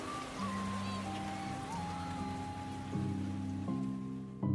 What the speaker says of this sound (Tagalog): Malakas pa rin ang buhos ng ulan